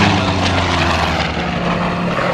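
A Douglas A-1 Skyraider warbird flies past at an air show, its big piston engine and propeller giving a steady, loud, rumbling drone for a couple of seconds.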